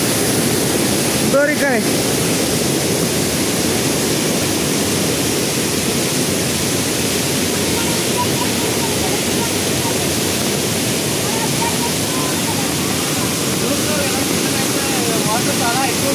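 Kothapalli waterfall swollen with rainwater roars as a steady, loud wash of rushing water that fills the whole stretch, with a brief spoken word partway through.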